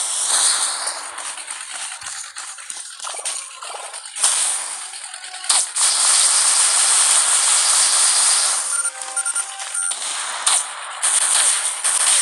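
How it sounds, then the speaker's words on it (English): Bombs going off during a boss fight in a Lego video game, bursts of loud hissing blasts that swell and stop in turn over about twelve seconds, with no talk. "Bombs!"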